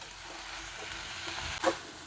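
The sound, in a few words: sautéing vallarai keerai greens in a pan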